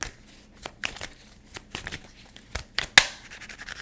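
Tarot cards being shuffled by hand in a series of soft, irregular riffling and slapping bursts, with a sharper snap near the end, close and fairly quiet with no talking.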